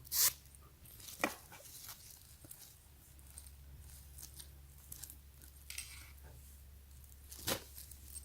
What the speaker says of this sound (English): around your ankle area, you got the zipper right here too.